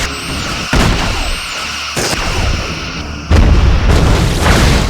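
Torpedo impacts striking a Cardassian ship in the Star Trek Bridge Commander space combat game, a series of heavy booming explosions with rumbling tails, the last burst loudest and closest.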